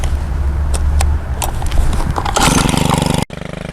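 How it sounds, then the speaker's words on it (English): A powered hedge trimmer runs steadily while cutting back ornamental grasses in late winter, its loud motor buzz rising and roughening as the blades chew through the stems, then cutting out briefly near the end. "Here I have one that's got a hedge trimmer attached, and this makes it really easy."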